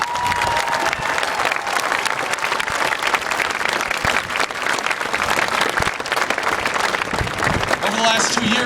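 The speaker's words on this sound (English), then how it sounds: "Let's give them one more round of applause." Sustained applause from a large crowd at a Minnesota celebration of marriage legislation, steady dense clapping filling the whole stretch with some cheering mixed in.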